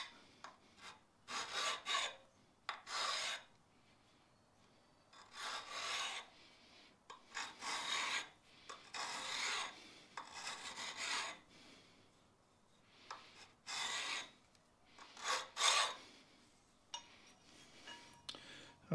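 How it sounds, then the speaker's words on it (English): Hand file rasping across a metal workpiece clamped in a vise for a horizontal band saw clamping accessory, a series of separate short strokes with brief pauses between, fairly close and moderately quiet. "Just to make it easier to give it a couple of strokes with a file."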